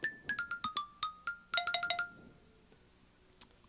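Xylophone voice on a Marimba Lumina electronic mallet instrument: a quick run of about a dozen bright, short struck notes in two bursts, each ringing off fast, then near silence with one faint late tap.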